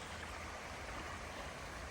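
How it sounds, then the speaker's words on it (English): A small creek with a little waterfall on Eureka Creek along the Appalachian Trail near the Delaware Water Gap, a steady soft rushing wash of water, constant and fairly faint, with no talk. "It is not a very big creek,"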